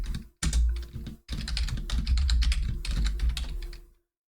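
Close, rapid typing on a computer keyboard while entering code into a programming environment, a dense run of clicking keystrokes with two brief pauses near the start and no speech.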